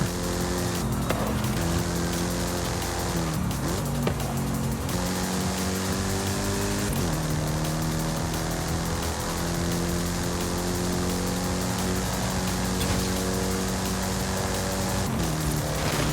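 Engine of a car in GTA IV: The Lost and Damned, a steady droning note with rising and falling harmonics as it revs through gears, loud and continuous with a gritty hiss over it.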